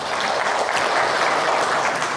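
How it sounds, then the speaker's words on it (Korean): Audience at a 2024 future forum gives a keynote speaker a big round of applause, loud and close, many hands clapping in a continuous, even burst without voices. "여러분 큰 박수 부탁드립니다."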